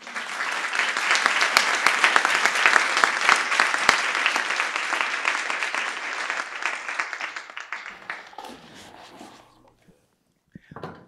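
An audience at an art event gives loud, sustained applause for the artists, with dense clapping swelling and holding for several seconds before it thins into scattered claps and fades to quiet.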